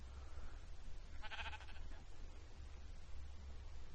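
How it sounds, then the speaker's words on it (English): A sheep bleats in the video game Minecraft, one short, wavering bleat, faint and off at a distance over a low steady hum. "I hear a sheep."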